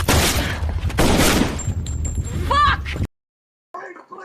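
Gunfire from a scene in the film Sicario, a loud burst of shots with heavy low rumble, followed by a short sharp sound and then silence before a voice speaks briefly.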